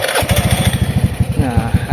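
A small engine runs close and loud with a rapid, steady putter, a Honda Beat carburetor scooter with a rebuilt engine ticking over evenly with a slight surge partway through.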